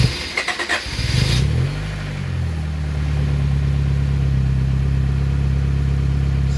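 After sitting unused for 17 years, a Honda Accord with a Euro-R engine swap cranks briefly, fires up and settles into a loud, steady idle that continues close by, with no talking over it.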